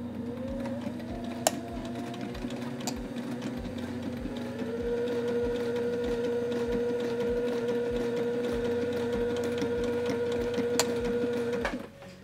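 A sewing machine stitches a fabric hem guided along the edge of the presser foot, its rapid needle chatter running steadily and close with a brief change in motor pitch midway and a few light clicks, no voices.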